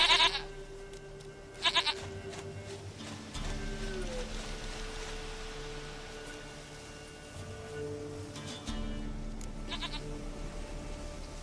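A goat bleats in the video game The Witcher 3: Wild Hunt, with a few short calls that come and go over a quiet, steady ambient and music bed.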